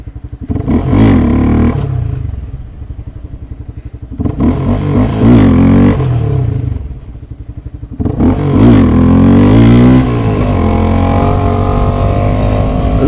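A Honda CBR250R, a quarter-litre single-cylinder motorcycle, revs loudly close by, its engine note climbing and falling in several surges with brief idle dips between them.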